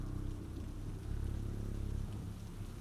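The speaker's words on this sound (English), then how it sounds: "Today I'm literally reading these stories while it's raining outside." Steady rain falls outside in a thunderstorm, a dense, even hiss of drops at low volume, continuous and without voices.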